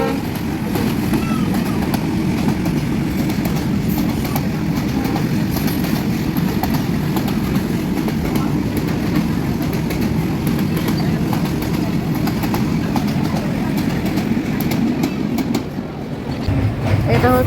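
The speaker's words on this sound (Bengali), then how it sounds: "একটা মালবাহী ট্রেন যাচ্ছে।" Freight train of Bangladesh Railway passing near the Hardinge Bridge at Paksey, a loud steady rumble with rhythmic wheel clatter lasting throughout, close by and continuous.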